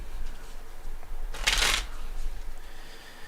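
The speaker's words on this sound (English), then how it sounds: "let me shuffle the deck first" A deck of playing cards is shuffled up close during a casino-style poker game, a single brisk riffle lasting about half a second with a crisp, bright flutter over quiet room noise.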